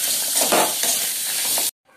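Onions sautéing in a pan for chicken kola urundai, a dense loud sizzle with stirring scrapes that stops abruptly into near silence at the end.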